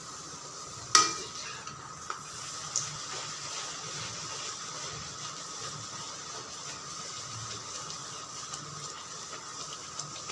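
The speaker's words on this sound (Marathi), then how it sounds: "मस्त अशा पुरे तळून घ्यायचे" Puris deep-frying in hot oil, a steady close bubbling sizzle running throughout, with a sharp clink near the start and a few faint utensil taps.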